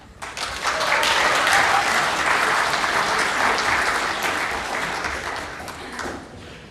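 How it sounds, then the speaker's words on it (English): Audience applause for a student speaker at a Pasifika cultural event, swelling quickly to a full, steady clapping that fades gradually over several seconds. "Another round of applause, ladies and gentlemen, for Lotu Pule Mangafa from Florida High School"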